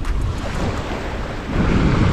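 Steady roar of whitecapped ocean surf and churning water at night, with wind buffeting the microphone, swelling louder toward the end.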